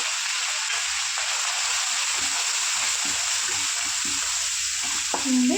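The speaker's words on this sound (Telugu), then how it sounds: "పసుపు అల్లం పేస్ట్ కరేపాకు కూడా వేగిపోయింది కదా" Turmeric, ginger paste and curry leaves fry in a pan for a chicken and fenugreek dish, making a constant hissing sizzle with faint stirring clicks throughout, no talk, and a small knock at the very end.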